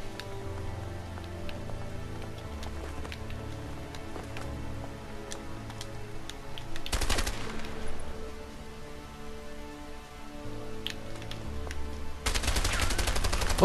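Gunfire from the video game A Way Out comes in two loud bursts of rapid shots over a low ambient game soundtrack with sustained tones.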